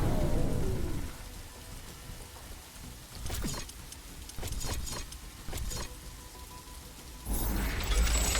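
Steady rain pours over the landscape in the video game The Riftbreaker, a broad continuous hiss with a few brief sharp crackles midway, swelling louder at the start and end, with no talk.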